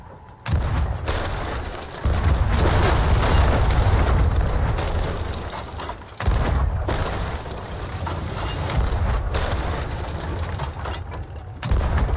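Ship cannons fire during a pirate sea battle in the Sea of Thieves video game, heard as loud, sustained booming blasts and rumbling explosions filling the clip, with short gaps between volleys.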